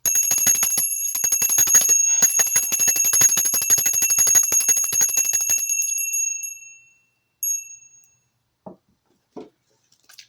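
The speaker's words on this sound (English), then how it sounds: "I'm going to be ringing the bell as well in 3," A bell rings rapidly and continuously for several seconds with a bright sustained metallic ring, then cuts off, leaving a last brief ring and a few faint soft knocks in near silence.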